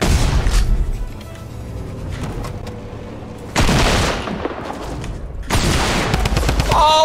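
Dense Fortnite gunfire from a chaotic battle-royale match, with loud, overlapping bursts of shots and booms throughout, intensifying in two heavy volleys toward the end.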